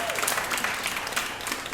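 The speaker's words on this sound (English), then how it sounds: "Let's give him a big applause." Short burst of audience applause at a summer concert after a composition instructor is introduced, dense clapping with a faint trace of voices mixed in.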